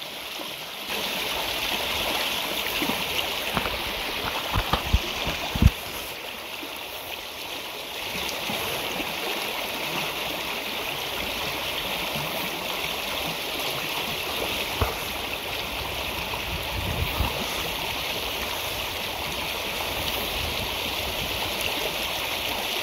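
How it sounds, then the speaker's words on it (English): A fast-flowing, cold stream rushes steadily nearby in a continuous broadband wash, with a few brief knocks and splashes rising above the constant water noise. "Now for a stream, this is very fast and the water is quite cold."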